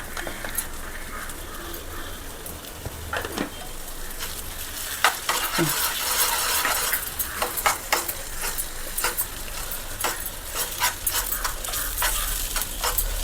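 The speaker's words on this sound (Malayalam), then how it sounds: "മുട്ട ഒന്ന് നല്ലൊന്ന് ഫ്രൈ ആവട്ടെ." Egg fries with chopped snake gourd in a pan for a Kerala thoran, a continuous sizzling hiss broken by frequent sharp clicks and scrapes of a spatula stirring against the pan.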